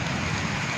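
Heavy rain falls as a dense, steady hiss with a low rumble beneath it, continuous and fairly close, with no voices.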